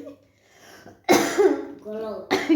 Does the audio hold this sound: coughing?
yes